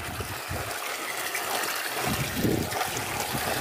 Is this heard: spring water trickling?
yes